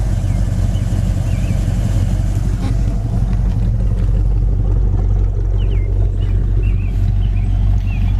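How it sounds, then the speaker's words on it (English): Exhaust of a green 1966 Ford Fairlane with a 4-speed idles in a steady low rumble, continuous and fairly close, with no talk. "There again, the exhaust sounds nice."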